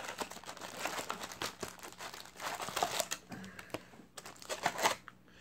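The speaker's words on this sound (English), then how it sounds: "let's just open these packs now" Close, continuous crinkling and tearing of foil trading card pack wrappers from a Yu-Gi-Oh! Shining Victories box, with papery rustles and shuffling as packs are ripped open and handled, no speech.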